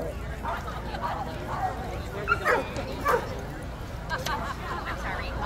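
Dogs bark and yip repeatedly in short, scattered bursts at a busy outdoor SPCA festival, several close and others farther off, over a constant murmur of crowd chatter and voices.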